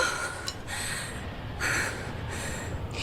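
Exaggerated breathy gasps from a character in the video game Hyrule Warriors: Age of Calamity, two sharp airy intakes over a faint background, no talking.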